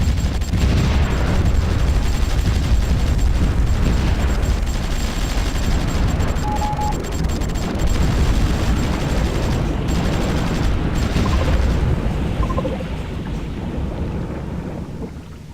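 Dense, rumbling battle noise in the strategy game Supreme Ruler Ultimate, with rapid gunfire and booming blasts rolling on without pause, loud and chaotic throughout, easing slightly toward the end.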